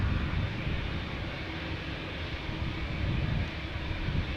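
A KLM Boeing 787-9 Dreamliner departing Amsterdam Schiphol Airport bound for Cape Town, its jet engines a steady, broad roar heard from fairly close, without breaks or voices.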